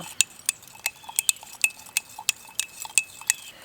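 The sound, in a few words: stirring spearmint aloe soap mixture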